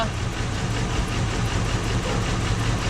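An engine on a barn-find Cadillac Escalade runs at a steady idle, a continuous low rumble heard up close and alone.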